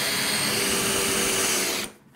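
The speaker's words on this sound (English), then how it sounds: "this is tile over tile, so we have to drill a little bit deeper than would regularly" A power drill whines loudly and steadily as it bores deep through tile laid over tile, then cuts off abruptly near the end.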